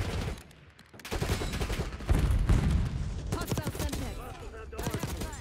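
Krig C assault rifle gunfire in Black Ops 6, loud repeated shots in bursts mixed with game sounds and someone talking over it.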